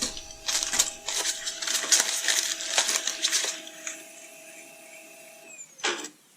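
A Brother DCP-J145C inkjet printer running a demo page: fast rattling clicks and mechanical chatter from the print head and paper feed in bursts, then a quieter hum and a final whirring pull near the end, close and with no talking.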